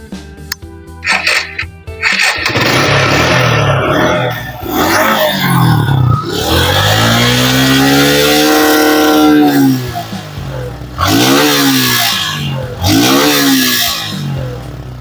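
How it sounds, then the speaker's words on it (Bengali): A Suzuki Gixxer 155 motorcycle engine starts with a few sputtering bursts, then revs loudly and close in several rising and falling sweeps. Short pauses separate the revs. "এই চাবিটা অন করার পরে এখন আমরা গাড়িটা স্টার্ট করব। তো সাউন্ডটা শোনাই এবার আপনাদের।"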